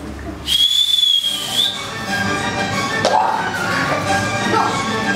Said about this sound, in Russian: Свистулька сломала сейчас. Пробую.